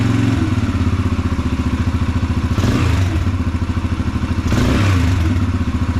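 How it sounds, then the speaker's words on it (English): Yamaha TTR-125 dirt bike with a newly installed jet kit idling steadily after starting, a loud close single-cylinder putter with a fast even pulse and two brief revs blipping over it. "I do believe first start, it started right up. Idling perfect."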